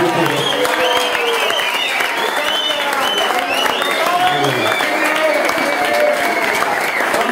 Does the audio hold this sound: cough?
no